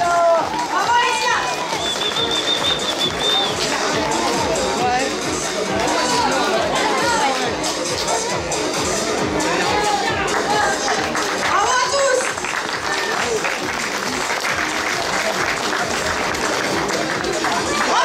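A costume-contest crowd at a superhero convention applauds an award winner for her Monster Hunter armour, dense, sustained clapping with cheers and scattered shouts lasting the whole stretch.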